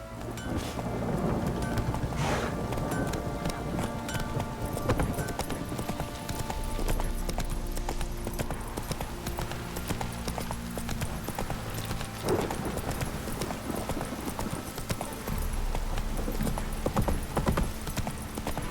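Roach, the horse in The Witcher 3, gallops steadily with rapid rhythmic hoof clip-clops against a dense, rumbling background that sounds like rain and thunder, running continuously throughout.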